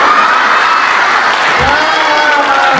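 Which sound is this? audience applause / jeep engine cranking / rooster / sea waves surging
audience applause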